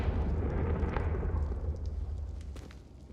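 A Confringo fire spell explodes in the Hogwarts Legacy video game, a single deep booming blast that rumbles and slowly fades with faint crackling debris, with no voices over it.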